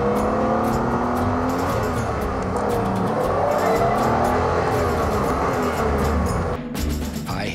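A BMW car accelerates hard in third gear on a two-lane country road, its engine note rising and droning steadily close by for several seconds, with wind and road noise and no talking.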